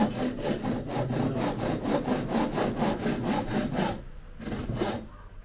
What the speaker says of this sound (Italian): È una sega di una volta che si usava per tagliare tutto a mano.